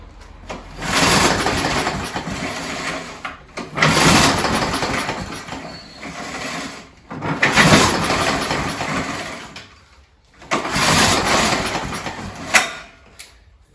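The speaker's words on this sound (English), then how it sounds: "this mower fired up before but then cut out" An alloy-bodied Scott Bonnar lawn mower with a four-stroke Briggs & Stratton engine fires up in four separate bursts. Each runs for a few seconds and then cuts out, with short quiet gaps between them.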